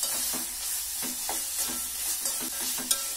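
Mashed banana mixed with sugar is stirred in a pan, making soft, rhythmic scraping strokes about every half second over a gentle, steady sizzle.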